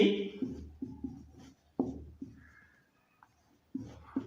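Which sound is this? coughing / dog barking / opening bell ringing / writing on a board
writing on a board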